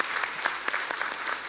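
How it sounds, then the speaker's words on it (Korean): Welcoming applause from a church congregation during a Sunday service comes as a short burst of many hands clapping at once, crisp and fairly close, with no talking. "우리 환영의 박수로 한번 맞아주시기 바랍니다."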